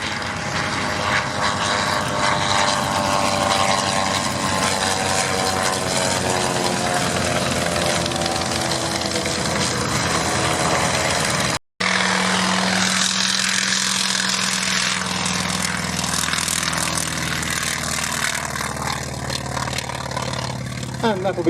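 Sopwith Triplane propeller aircraft flying at an air show, a steady loud engine drone with a rising, shifting pitch, briefly cut off midway, with a public-address announcer talking over it.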